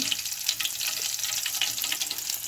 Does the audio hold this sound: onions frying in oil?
yes